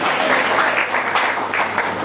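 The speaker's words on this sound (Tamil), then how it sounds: "நல்ல கைத்தட்டு." Brief, dense applause from a large congregation during a sermon, steady and fairly close throughout, with a faint low hum underneath.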